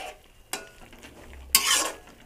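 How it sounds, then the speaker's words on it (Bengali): A simmering curry with cumin powder is stirred in a pan, giving two quick scraping strokes over a soft background sizzle, the second stroke louder and longer. "আমি একটু জিরের গুঁড়ো দিয়ে দেবো, দিয়ে একটু ঘেঁটে দেব"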